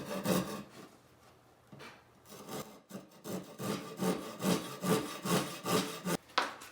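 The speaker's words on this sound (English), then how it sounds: "one student holding while the other student is sawing" A handsaw cuts through wood held by a student in rasping back-and-forth strokes, hesitant at first, then settling into a steady, quickening rhythm up close.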